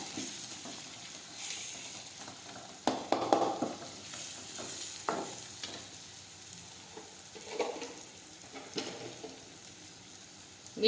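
Dal simmers in a pan with turmeric and cumin while a spoon stirs it, making soft, faint sizzling and wet scraping with a few louder knocks of the spoon against the pan.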